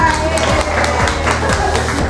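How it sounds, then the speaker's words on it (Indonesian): Classroom students clap for two classmates, a brief, loud, rhythmic round of hand claps mixed with chatter and voices. "Tepuk tangan buat berdua."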